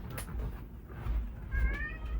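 A cat meows at a door, with a faint early cry and a clearer drawn-out meow near the end, over low room rumble and some thumping.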